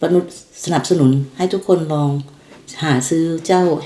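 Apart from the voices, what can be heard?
No distinct noise like a dog, phone or traffic.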